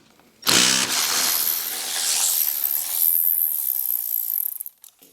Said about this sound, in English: I'm undoing that lower bolt.